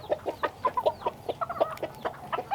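Backyard chickens, Americana hens among them, cluck and murmur in a small coop in a busy, overlapping chatter of short, close calls that goes on without pause.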